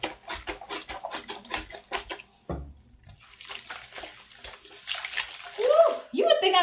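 A synthetic wig is scrubbed and swished through a basin of water, producing uneven splashing and sloshing in bursts that come close and fairly loud, with a voice speaking briefly in between.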